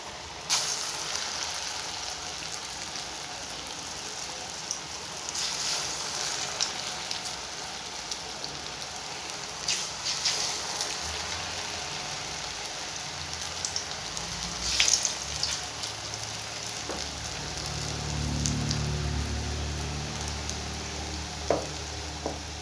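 Small urad dal vadas shaped like bondas frying in a shallow layer of oil, a steady soft crackling sizzle with brief louder bursts as batter drops in, continuous throughout without talk.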